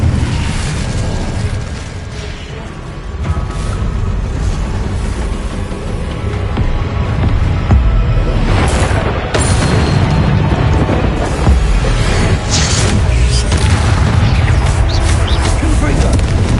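Confringo fire spells burst repeatedly in Hogwarts Legacy combat, a loud chain of booming explosive hits and crackles spread across the stretch, mixed with spell effects and game noise under spoken incantations.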